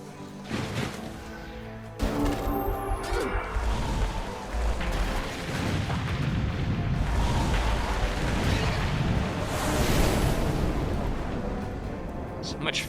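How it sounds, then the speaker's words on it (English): Dense, continuous rumbling blasts and crackling fire roar during a siege battle in the video game Age of Wonders III, with booming explosions layered throughout and a voice talking over the chaos. "So much fire and explosions."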